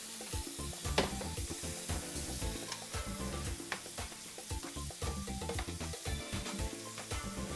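Pork tenderloin sizzles and crackles steadily in a hot pan, a dense, continuous frying hiss with scattered pops and utensil scrapes, fairly close and with no talking.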